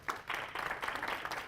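An audience at a talk applauds, a soft, fairly distant patter of many hands clapping steadily for a moment with no voices over it.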